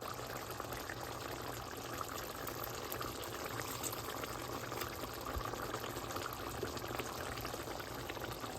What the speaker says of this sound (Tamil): இப்போ கொதிக்கட்டும்